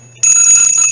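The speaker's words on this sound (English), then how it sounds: "It's got something, a mission bell." A mission bell, a bargain-hunting find, gives one bright ring that strikes about a fifth of a second in and holds loud and steady with sustained metallic overtones to the end.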